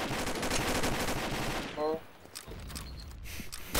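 Rapid automatic gunfire in the online shooter Combat Arms, a dense burst of shots that stops partway through and is followed by a few scattered distant shots.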